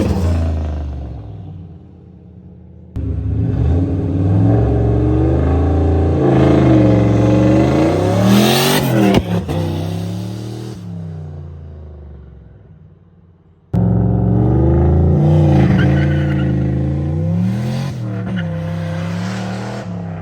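A car launching and accelerating hard during a suspension test, engine revving up through the gears with a rowdy shift, loud and close, cutting out briefly before a second hard launch.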